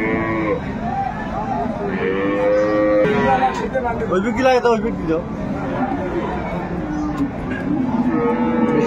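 Dairy cows and calves at Aftabganj cattle market in Dinajpur moo repeatedly, drawn-out calls rising over a crowded babble of people talking and bargaining nearby.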